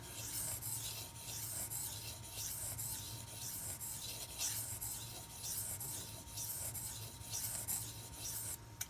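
Steady rhythmic scraping of a Spyderco Smock knife blade stroked back and forth across a Gritomatic silicon carbide sharpening stone, close and continuous, with a faint low hum underneath and no talk.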